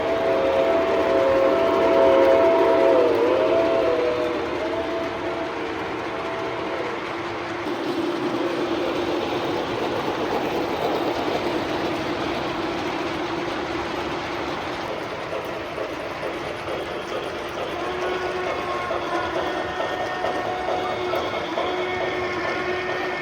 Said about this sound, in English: Look at how beautifully the steam engines run.